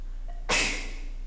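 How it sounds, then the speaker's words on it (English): A single sharp human sneeze, close and sudden, with a short breathy intake just before and a bright burst of air that fades quickly in a quiet room. "I'm about to sneeze."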